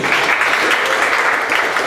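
Audience applause for a sponsor at an awards wrap-up event, a steady dense wash of clapping that holds evenly loud for the whole stretch.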